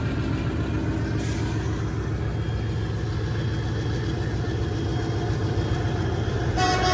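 A diesel locomotive-hauled express train rumbles steadily near Hospet Junction with a dense low drone, while another passing train's horn adds faint toots in the background.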